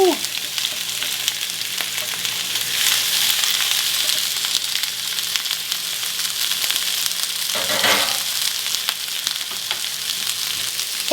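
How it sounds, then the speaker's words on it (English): Chopped vegetables frying in olive oil in an enamelled cast iron pan, a loud, steady sizzle that holds throughout, with a brief stir or clatter near the end. "if you hear that noise, that cooking noise, it means you're doing something right"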